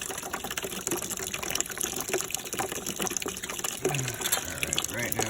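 Rusty water drains steadily out of a Honeywell furnace boiler, a continuous hissing, splashing flow at close range with brief faint voices and small clanks underneath.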